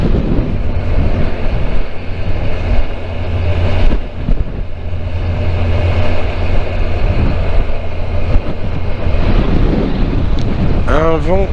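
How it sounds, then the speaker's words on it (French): Strong wind buffets a GoPro helmet microphone while riding through the interior of northern Portugal, a loud continuous rumble throughout, with a brief chirping sound near the end. "Un vent à décorner les bœufs."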